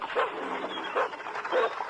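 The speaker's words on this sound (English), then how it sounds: "He's got 2 dogs with him as well." A dog gives three muffled barks at a steady pace, moderately close, with no talking.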